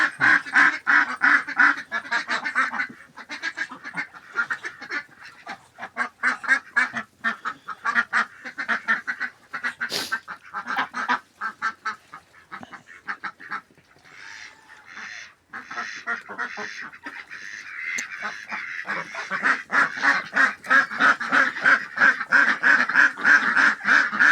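Muscovy ducks newly released into a flock of farm fowl give a long, continuous stream of close, loud quacks and honking calls, with brief quieter gaps and no talking.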